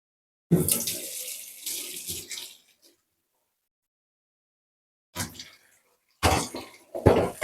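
Kitchen items are washed under a running tap in a Bangladeshi home, with bursts of splashing water that start and stop, close by and moderately loud, separated by a few seconds of silence.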